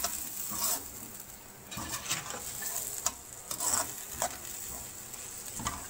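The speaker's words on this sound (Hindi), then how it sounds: "अच्छे से हम इसे मिक्स कर लेंगे।" Beef stew being mixed in a pot, with soft, intermittent scraping and stirring strokes over a faint background sizzle, fairly quiet and close.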